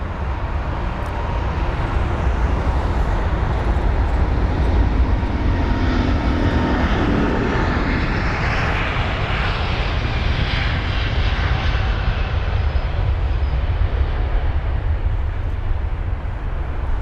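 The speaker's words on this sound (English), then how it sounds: "And there's the Virgin Atlantic A330-900 heading our way." A Virgin Atlantic Airbus A330-900 approaches Heathrow with a loud, continuous jet roar that stays strong and broadband for the whole stretch, swelling slightly as it nears.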